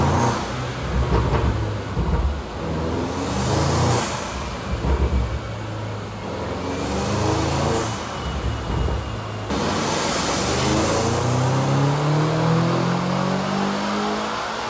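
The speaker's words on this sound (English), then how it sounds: "Let's go ahead and dyno it now and see if we can get any more horsepower" A Land Rover Defender Octa SUV engine on a dyno revs up and down in repeated surges, climbing in pitch and holding high, with steady roaring noise throughout.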